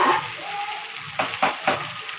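Plain cooked white rice frying in hot oil, with a broad steady sizzle and a few louder bursts of crackle and scraping as it settles in the pan, no voices.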